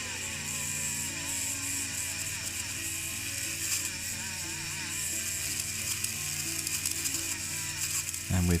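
Metal parts of a Singer Gazelle 168 sewing machine being buffed, a continuous close mechanical whir with rattling texture throughout and a louder bump at the very end.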